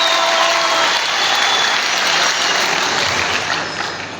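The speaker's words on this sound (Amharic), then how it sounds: "እስቲ አንዴ ሞቅ ባለ ጭብጨባ እንቀበላቸው" Warm audience applause welcoming a board member of a development association at a fundraising event in Dire Dawa, a dense sustained clatter of many hands that holds steady and fades slightly toward the end, with no talk over it.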